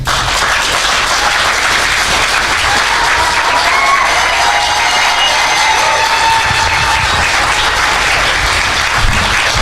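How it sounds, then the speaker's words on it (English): Sustained, loud audience applause fills a diaspora town hall as a speaker is welcomed, a dense steady wash of clapping with some crowd noise, lasting throughout without talk. "give a hard applause"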